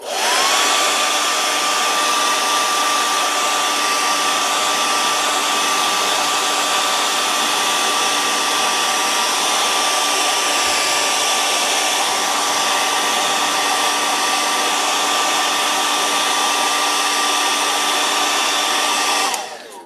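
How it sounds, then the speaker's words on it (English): A hair dryer blows loudly and steadily from start to finish, drying paint on a fishing lure, a constant whooshing roar with a high whine, cutting off abruptly at the end. "I'm going to hit it with the hairdryer and we'll do another coat real quick."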